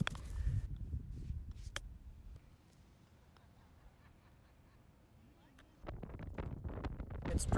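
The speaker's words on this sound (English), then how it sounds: "It's pretty windy." Gusty wind buffets the microphone on a golf course, rumbling loudly at the start and end with a quieter lull in the middle, and a few faint clicks and a brief voice along the way.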